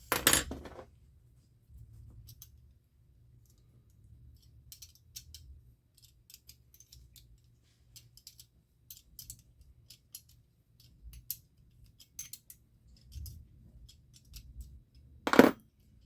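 A stubborn retaining nut is worked loose on a Petromax 829 pressure lantern: sharp metallic clanks at the start and end frame a long stretch of faint, intermittent scrapes, ticks and ratcheting clicks of tool on metal.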